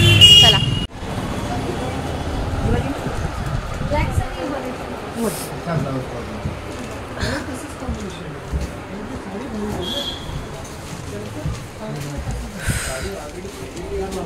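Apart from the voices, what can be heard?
traffic noise from cars on the street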